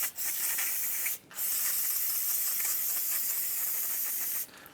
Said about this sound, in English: hose it down with some brake parts cleaner